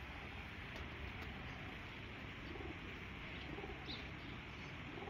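Soft pigeon coos drift over a steady, noisy outdoor background, with a few faint chirps; no one speaks.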